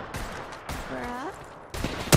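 Short bursts of gunfire from the Apex Legends battle royale shooter, a few sharp cracks spread across a couple of seconds with the loudest near the end, mixed with game sounds and a voice.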